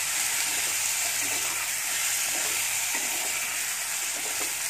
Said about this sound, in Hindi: अच्छे से मैं मिक्स कर देती हूँ मसालों के साथ आलू को